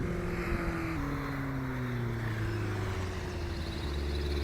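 A STOL bush plane's high-revving engine heard during mountain short-takeoff-and-landing practice, a steady droning hum whose pitch slowly sinks over a few seconds as the aircraft passes, with no talk over it.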